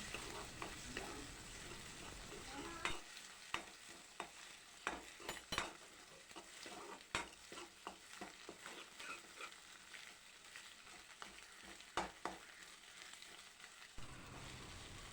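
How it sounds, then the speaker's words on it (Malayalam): Two eggs scrambling in a pan in a home kitchen, a faint continuous sizzle broken by a run of light scraping and tapping strokes of a spatula against the pan. "ഇനി നമുക്കിതാ മുട്ട ഉടച്ച് ചേർക്കാം രണ്ട് മുട്ടയാണ് എടുത്തിട്ടുള്ളത് നന്നായിട്ട് ചിക്കി എടുക്കാം"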